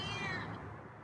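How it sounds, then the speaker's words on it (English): A feral cat gives a single drawn-out, complaining meow close by, loud at first and then trailing off. "That's some meows."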